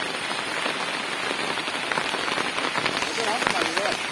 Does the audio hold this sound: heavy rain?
yes